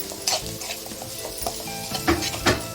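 Onions and fenugreek leaves fry in a pan for a carrot stir-fry, a steady close sizzle broken by several louder scraping stirs of a spoon against the pan, with no voices.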